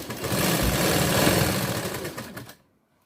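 A sewing machine runs steadily while stitching a straight seam with a half-inch margin on a princess-cut blouse, a continuous mechanical whir that holds for about two and a half seconds and then stops abruptly into silence.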